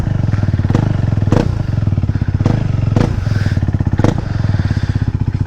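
A KTM RC390 motorcycle idles loudly with its exhaust removed, giving a close, raw, rapid engine thrum with sharp periodic blips and clattering bursts on a wet road.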